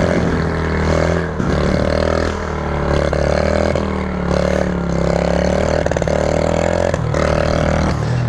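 A Honda CG Fan 125 motorcycle engine drones loudly and steadily for several seconds, its pitch wavering as the throttle rises and falls, with a few short dips in between.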